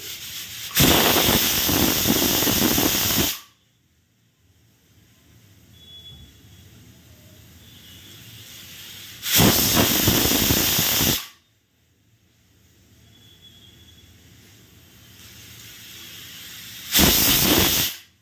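Pressure cooker on a stove cooking brinjal, raw mango and dal with rice, letting off three loud bursts of hissing steam whistle with quiet gaps between them, the last burst cut short.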